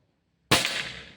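A single sharp air rifle shot at a target cracks suddenly after silence, close and loud, with a brief ringing decay.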